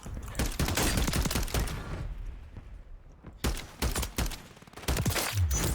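Rapid bursts from a marksman rifle in Warzone 3.0, loud sharp shots in clusters with a short lull in the middle before firing resumes.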